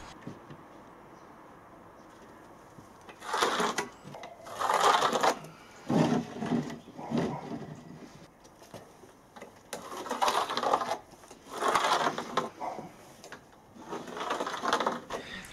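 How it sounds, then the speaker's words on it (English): A drill drives 40mm deck screws into OSB board on timber framing in a shed build, several separate whirring bursts of a few seconds each with quiet gaps, close and without talk. "so I know where to screw into place and secure the OSB board"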